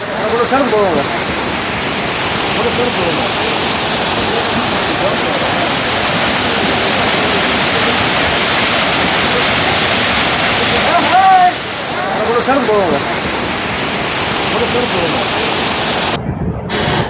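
Agathiyar Falls roars as a loud, close, continuous wash of falling water, with brief voices surfacing faintly beneath the steady rush.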